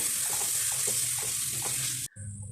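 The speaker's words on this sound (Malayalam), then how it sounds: "നമ്മൾ അരിഞ്ഞ് വെച്ച തക്കാളിയും മല്ലിയിലയും പുതിനയിലയും കറിവേപ്പിലയും കൂടെ ഇട്ട് നന്നായിട്ടൊന്ന് ഇളക്കി കൊടുക്കണേ" Ginger, green chilli, garlic, tomato, coriander, mint and curry leaves sizzle steadily in hot oil in a pressure cooker for chicken biryani, with a few soft stirring scrapes before the hiss briefly drops and resumes, no voices.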